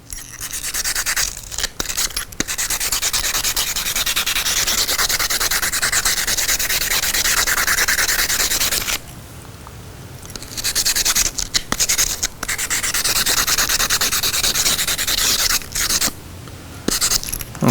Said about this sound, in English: I'm just taking my sanding block here and just get all the surface rust off